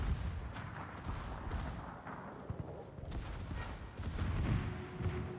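Naval gunfire in a warship video game, repeated booming shots and bursts over several seconds at moderate volume, with a voice speaking faintly at times.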